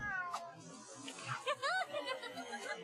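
A cat meows in the LEGO Harry Potter video game, a short rising and falling call near the middle, heard over steady game music and ambience, with a faint earlier mew.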